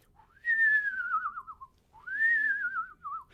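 A person whistles two descending, quavering notes in imitation of a screech owl's wavering call, each about a second and a half long, clear and close.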